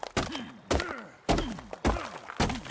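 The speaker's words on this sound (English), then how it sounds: "we'll see if we bang on the rock there, we get more rock" A stone hatchet strikes a rock in the ARK: Survival Evolved video game, five hard thunking blows at an even, steady pace, each landing with a heavy thud followed by a short groaning tail.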